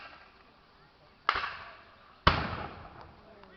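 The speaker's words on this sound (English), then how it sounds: "You can just again hear the guns, these wonderful guns. They are replicas of some of the muskets that would have been fired at the time" Replica muskets firing at an outdoor battle reenactment in Antrim, two sharp, loud reports about a second apart, each trailing off in a short rolling echo.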